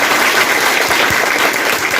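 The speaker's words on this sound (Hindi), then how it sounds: "तो जोरदार ताली बजाइए इसके लिए।" A loud, steady burst of audience applause with dense clapping throughout, close and continuous for the full two seconds.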